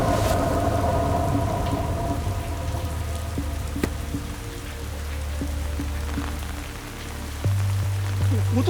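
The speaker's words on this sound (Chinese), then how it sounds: "阿成，快点进来躲雨！" Heavy rain pours down steadily with low rolls of thunder and a sharp crack partway through, loud and continuous from start to finish.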